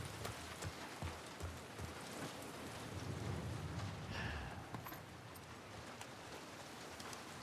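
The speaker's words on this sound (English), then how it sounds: "it's raining" Steady rain falls in The Last of Us Part II, a dense even patter on surfaces with scattered drops, continuous and fairly soft, with no talking.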